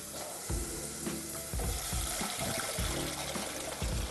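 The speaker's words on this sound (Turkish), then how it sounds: "Sonrasında kaynar suyumu ilave edeceğim." Water poured into a simmering soup pot with carrots for Turkish sour meatball soup, a close, continuous sizzling splash with rhythmic bursts of stirring and pouring, no voices.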